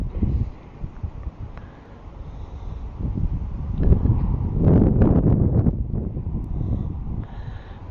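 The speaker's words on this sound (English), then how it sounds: "Hope you can hear me, it's getting very windy." Heavy wind buffeting an uncovered microphone at a carp fishing lake, low roaring gusts that swell and fade, loudest in the middle, with no one speaking.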